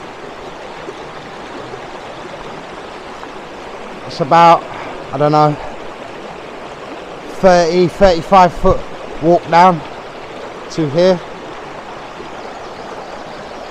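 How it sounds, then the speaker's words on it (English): A river rushes at the bottom of the lowest of four waterfalls on a piece of land, giving a steady, full hiss of water throughout as someone talks over it. "this is the first of the waterfalls. There's 4 on the land. This is the bottom one."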